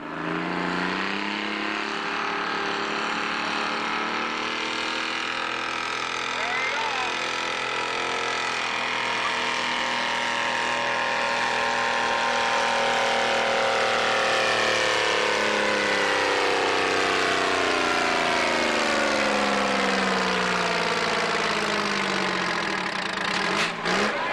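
A 1915 antique 30-horsepower engine at an antique machinery show in Brooks, Oregon, running loudly and steadily, its pitch drifting slowly down and then up again as it labors and speeds over about twenty seconds.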